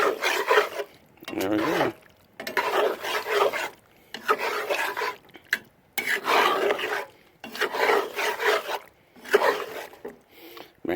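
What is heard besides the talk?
stirring cheese into pasta shells in a pot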